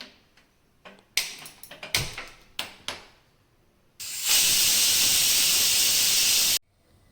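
A pressure cooker full of mutton biryani gives a few sharp metallic clicks and knocks, then a loud, steady rush of escaping steam for about two and a half seconds before it cuts off abruptly.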